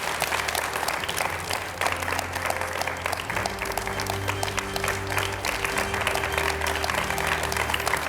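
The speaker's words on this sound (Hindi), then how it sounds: "जोरदार तालियों से स्वागत कीजिए बीजेपी से गौरव भाटिया और कांग्रेस से आलोक शर्मा का" A studio audience at a televised political debate show applauds steadily and loudly to welcome the guests, a dense, continuous wash of clapping that lasts the whole stretch.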